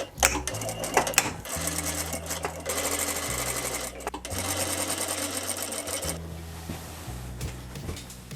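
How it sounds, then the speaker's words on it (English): A sewing machine runs in bursts along the side seam of a large hoop skirt gown, with rapid rhythmic stitching that stops and restarts several times, close and clear, with no talking. "So I'm finishing now the side seam"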